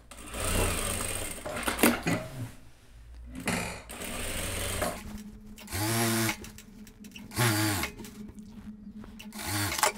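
Close-up, a sewing machine stitches a blazer shoulder seam in short bursts, several quick runs separated by pauses and handling clicks.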